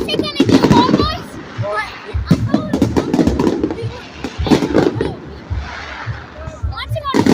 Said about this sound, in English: Fireworks. Fireworks show.